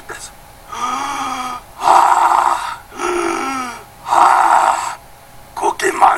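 A monster character breathing, heard as loud, slow, raspy inhale-exhale cycles in a steady rhythm, probably voiced by a person imitating the creature, ending with a few quicker, choppier breaths.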